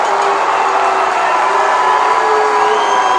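Crowd at a UIL high school state championship baseball game in Sinton erupting in a sustained, loud roar of disapproval after a ball-four call, steady and dense throughout with no break.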